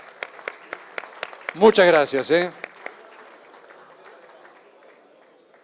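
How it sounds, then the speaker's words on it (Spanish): Scattered claps from a debate-event audience, sparse and rhythmic, briefly interrupted by someone speaking, then dwindling into a faint fading patter. "Así que un aplauso para ellos,"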